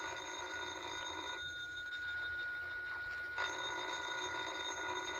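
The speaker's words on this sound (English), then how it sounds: "Well, ain't you going to answer the phone?" An old-time telephone rings in a vintage radio suspense drama, a continuous bell tone that pauses briefly and resumes, heard faint and under steady broadcast hiss.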